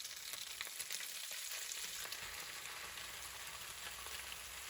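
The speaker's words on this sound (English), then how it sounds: "This took quite a long time of frying before it started to change color." Strips of food sizzle and fry in a hot pan with oil. A steady, crackling hiss runs throughout at low volume with no talking.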